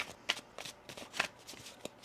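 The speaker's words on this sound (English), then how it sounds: "One more shuffle here." Tarot cards are shuffled in quick, soft riffling bursts, about a handful of crisp flutters in two seconds. The sound is quiet and close, with no other sounds around it.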